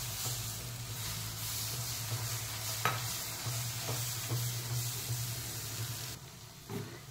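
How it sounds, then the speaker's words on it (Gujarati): Wheat flour roasting for halwa in a pan as water is added, with a continuous bubbling sizzle, low hum and repeated scraping stirs, close by, then quieting near the end, no voices. "હવે આપણે એમાં પાણી એડ કરીશું."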